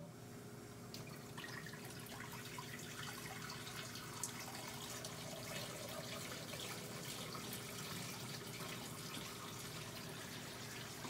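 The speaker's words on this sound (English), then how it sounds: "So now that our tank's filling" Tap water running steadily into a 20-gallon freshwater aquarium tank, a continuous soft rushing splash with no breaks, heard alone at moderate level.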